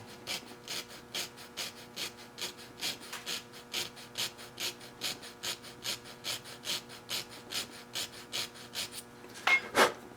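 A hand file works the gap of a slightly hardened Kerzel piston ring in about twenty even, rasping back-and-forth strokes. The strokes are quiet and close, and a small metallic clink follows at the end.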